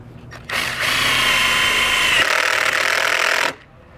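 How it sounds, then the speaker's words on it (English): Power drill with an 8mm socket running self-tapping screws into a rod while mounting a Solera slide-out awning on a 2016 Forest River Grey Wolf travel trailer; one steady, loud whirring run of about three seconds with a pitch drop partway through, alone. "switch over to an 8mm socket so we can run in the self-tapping screws into the two holes here into our rod"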